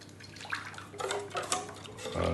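Far breton batter being poured into a buttered baking mold, a soft, wet pouring and splashing sound lasting a couple of seconds, close by with faint kitchen clatter.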